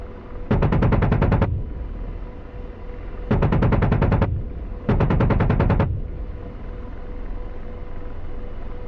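Three loud bursts of rapid automatic gunfire from an attack helicopter in a video game, each lasting about a second, fired at tanks over a steady engine drone, with no talking.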